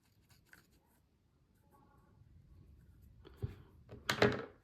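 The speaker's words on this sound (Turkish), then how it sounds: "Ondan sonra bunu hemen fazlalık pamuğunu kesiyorum." Scissors snip excess cotton from a syringe ant nest, a few faint close rustles building to a sharp crisp cut near the end.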